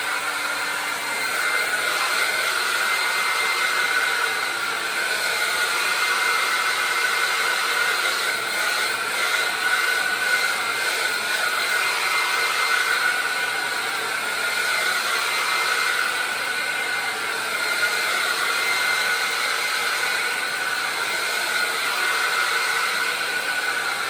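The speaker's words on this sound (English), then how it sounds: "I'm going to get my handy dandy handheld dryer and we're going to dry off this bad" A handheld dryer blows continuously as it dries acrylic paint on an abstract painting, producing a steady, loud airy whir with a constant hiss that barely changes throughout.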